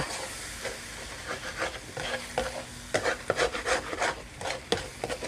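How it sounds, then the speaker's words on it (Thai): Pork stir-fried with egg and seasoning in a pan gives a sizzling, hissing base under repeated rhythmic spatula scrapes and stirs, growing busier toward the end, with no talking. "ผัดให้เข้ากันค่ะ"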